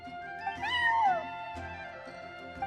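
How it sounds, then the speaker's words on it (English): A cat meows in the Genshin Impact video game: one drawn-out, rising then falling meow at moderate loudness over a soft, steady background. "I'm sorry, that's my neighbor's cat."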